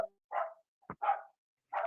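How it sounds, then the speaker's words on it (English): Farm dogs excited by roosters give a few short, sharp barks spaced apart, fairly near and clear against silence. "My dogs are going. They heard the roosters, so now they're getting excited."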